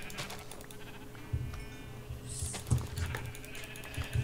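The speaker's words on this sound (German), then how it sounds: "Jetzt kill ich tausende von Schafen, was mir nichts bringt" Sheep bleating in the Minecraft video game, a few short game bleats scattered over a steady background of game sounds and mechanical noise, with no talking.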